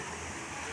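Water falls from an overhead outlet into a resort swimming pool, a steady broadband rush like a small waterfall that fills the short moment evenly.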